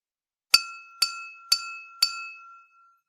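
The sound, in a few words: empty drinking glass being tapped before adding water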